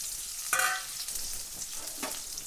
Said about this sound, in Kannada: ಇದರಲ್ಲಿ ಎಣ್ಣೆ ಹಾಕ್ತಾಯಿದ್ದೀನಿ. ಎಣ್ಣೆ ಎಷ್ಟು ಬೇಕಂತ ಅಷ್ಟು ಹಾಕ್ಕೊಳ್ಳಿ. ಓಕೆ, ಫಸ್ಟು ನಾನು ಈರುಳ್ಳಿ ಹಾಕ್ತಾಯಿದ್ದೀನಿ.